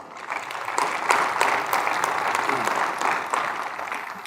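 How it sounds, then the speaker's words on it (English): An audience claps for panelists being introduced at a university discussion panel, with brisk, fairly close applause swelling and holding steady throughout. "the clapping will wake you up too"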